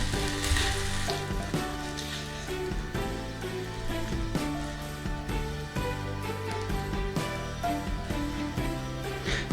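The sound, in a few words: onions and vegan bacon frying in a pan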